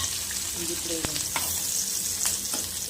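Onion, capsicum and garlic frying lightly in oil in a pan, giving a continuous close sizzle with scattered spatula clinks and scrapes from stirring.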